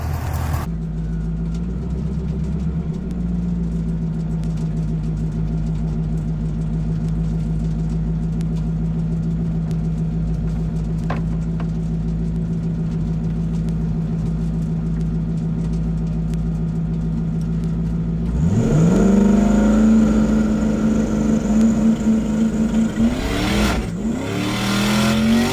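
A Ford Mustang drag car idles at the drag strip with a steady, loud, lumpy drone, then revs up sharply near the end, its engine pitch rising and falling in quick throttle blips.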